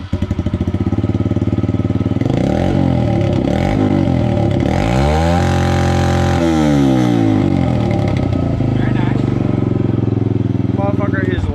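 A Yamaha TTR-110 dirt bike engine with the exhaust baffle removed runs loud and close, idling with a raspy clatter, then revving up and down in several rising and falling sweeps before settling back to idle.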